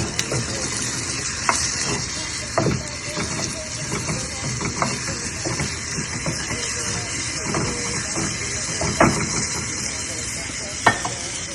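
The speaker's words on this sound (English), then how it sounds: "I want this tomatoes and onions and everything to cook down. So just stir it and allow it to cook down." Tomatoes and onions cooking down in a pot for peanut soup, a low steady sizzle with intermittent scraping and clinks of stirring, close and moderate in level.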